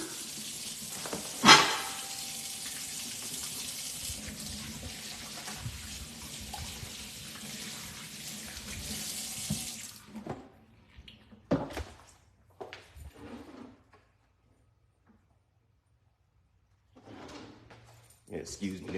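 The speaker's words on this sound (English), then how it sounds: "let me wash the sink down really fast." Tap water runs steadily into a kitchen sink as it is rinsed down, a continuous hiss that stops partway through, followed by a few scattered clatters and soft handling sounds in a quiet room.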